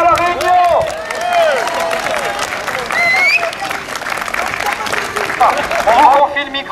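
Crowd applauding at a street demonstration for equal rights in Angers, clapping and cheering spread throughout at fairly loud level, mixed with whistles, shouts and crowd voices.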